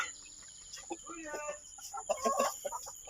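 Soft, scattered hen clucks come in short bursts over a quiet farmyard background, with some faint talking in between.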